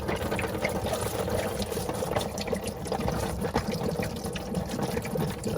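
Water drains out of the plumbing of a Bigfoot B19 camper, a close, steady gurgling pour that runs without a break.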